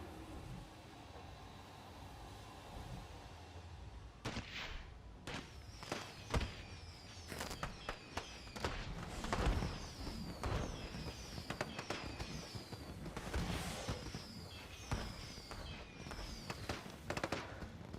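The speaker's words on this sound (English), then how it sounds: "nighttime we gotta go to the fireworks show" A fireworks show in the Planet Coaster theme park game, with a steady run of sharp bangs, pops and crackling bursts that build into dense volleys, some whistling launches, loud and continuous.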